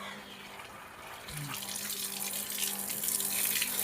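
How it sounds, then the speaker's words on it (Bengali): Water from a motor-driven pump with a newly replaced check valve pours out steadily, starting faint and building into a loud, continuous gushing flow. "এখন জল চলে আসছে"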